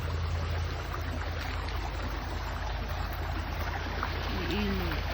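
A river rushes in a continuous, dense broadband wash, close and steady throughout, with a brief faint voice near the end.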